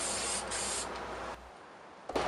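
Aerosol spray can hissing steadily as light passes of lacquer are laid along the grain of a guitar body for a sunburst finish; the spray cuts off midway, then briefly resumes with a short burst.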